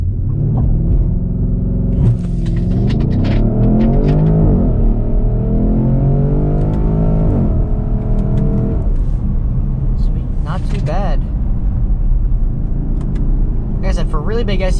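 A 2014 Porsche Cayenne GTS's 4.8-liter V8 roars and revs hard under heavy launch acceleration in manual mode, loud and sustained, with rising pitch sweeps as gears climb and faint road noise.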